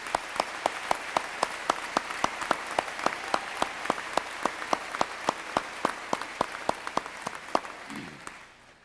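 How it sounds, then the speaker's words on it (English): Steady applause from a commencement audience filling a hall, with sharper individual claps standing out in a regular rhythm throughout, fading slightly at the end. "Would you join me in giving Jim another round of applause?"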